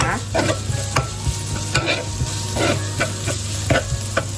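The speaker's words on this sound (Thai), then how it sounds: "ผัดเขาให้หอมนะคะ" Curry paste stir-fried in a pan, the close sizzle of frying paste broken by repeated scraping strokes of a spatula at an uneven rhythm, with no talk.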